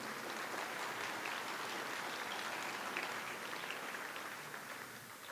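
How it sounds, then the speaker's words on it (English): An audience at an annual fashion show gives a round of applause for a member of the fashion advisory board. The clapping is steady and continuous, heard from a distance at moderate volume, and tapers slightly near the end. "So please give her another round of applause"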